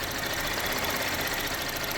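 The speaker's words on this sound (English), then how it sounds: "So let it run for a little while so the engine is warmed up and the transmission is warm." A Buick LaCrosse engine idles steadily while warming up, a continuous even mechanical hum and hiss with no change in pace, moderately loud and without speech.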